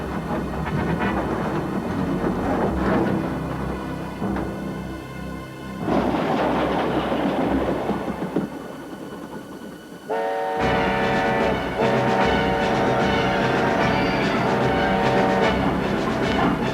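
In a cartoon, a train rumbles and clatters loudly and steadily across a weakened bridge, then a sustained train whistle or horn blows over the rolling noise near the end.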